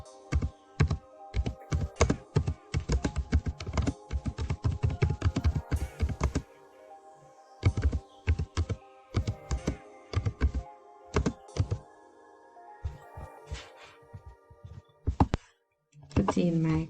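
Steady typing on a computer keyboard while a question is entered into Google Forms, dense runs of close, crisp key clicks broken by brief pauses.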